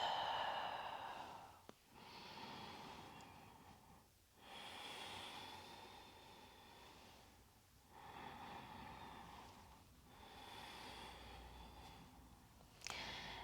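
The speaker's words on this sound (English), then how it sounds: "All the while we're breathing deep." Slow, deep breathing during a yoga session: several long inhale-and-exhale cycles, close and soft, with brief pauses between breaths and no talking.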